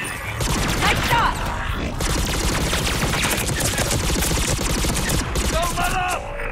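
Gunfire in the video game Mass Effect 3: dense, loud, continuous automatic weapon fire with rapid rattling bursts and impacts, with short pauses, while voices call out over the shooting.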